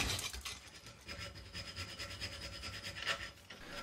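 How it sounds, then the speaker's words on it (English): Hand filing of metal while shaping expansion link trunnions for a model locomotive: a close, faint, rhythmic rasping of strokes back and forth, steady and unbroken, with no voices. "then get on to some hard work with the files"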